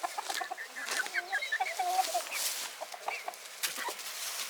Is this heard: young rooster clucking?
yes